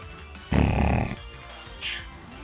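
The Pokémon Shield Snore move gives a single gruff, grunting snore burst lasting about half a second, then a brief, soft bright chime over a quiet game background.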